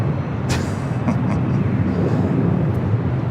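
A Boeing 777 cargo jet turning at LAX, heard as a steady, loud broadband engine roar that holds constant throughout, with faint brief higher tones near the start.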